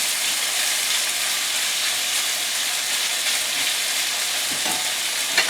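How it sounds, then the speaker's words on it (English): Chicken and vegetables stir-fry in a wok over high heat, giving a loud, continuous close-up sizzle and hiss with faint stirring underneath, uninterrupted for the whole stretch. "high heat on your wok"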